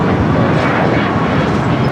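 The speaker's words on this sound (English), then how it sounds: "United Airlines flight 1734, coming in from Dallas on a 757-300 next arrival here on the south side" United Airlines Boeing 757-300 arriving from Dallas at Los Angeles International Airport on the south side, a loud close engine roar, dense and steady across the short span with no voices.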